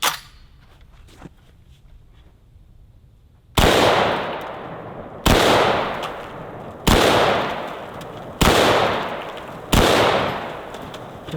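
An M1A .308 rifle fires at soda 12-packs and 2-liter bottles: after a quiet start, five loud, evenly spaced shots crack out, each followed by a long echoing decay outdoors.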